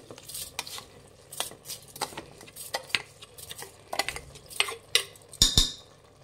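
A spoon scrapes and clinks against a metal pot as rice is stirred into fried masala for bread pulao, giving a run of irregular close scraping and tapping strokes with no talking.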